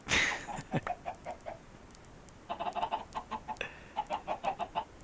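Chickens cluck in the video game Minecraft, played with the FTB modpack. After one louder squawk, bursts of short clucks repeat in quick, uneven runs, fairly close, with a quiet gap between them.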